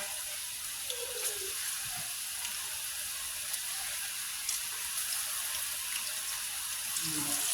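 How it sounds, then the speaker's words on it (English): Plantain slices frying on low heat in hot oil give off a faint, steady sizzling hiss with scattered small pops and an occasional clink of utensils, and no one speaks. "So our oil is now hot. Now you can go ahead and put the stove on low and add your plantains to the oil."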